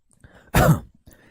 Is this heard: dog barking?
no